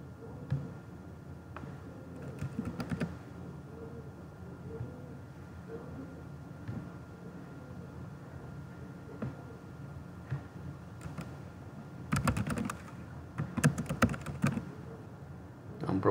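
Faint typing on a computer keyboard while filling out an online arrival and customs declaration form, with soft scattered key taps under a quiet speaking voice and a few louder clusters near the end.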